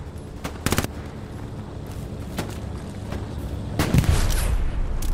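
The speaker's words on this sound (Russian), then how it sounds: "А, тут стреляет, да?" Bursts of gunfire in Hell Let Loose on PS5: a sharp volley early on, a lone crack near the middle, then a heavier close burst toward the end, all over a steady battlefield rumble.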